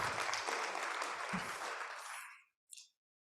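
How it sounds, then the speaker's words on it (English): Audience applause for speakers at a financial inclusion forum, a dense burst of clapping that fades out after about two and a half seconds, followed by a brief faint spatter of claps. "let's give a round of applause to our speakers"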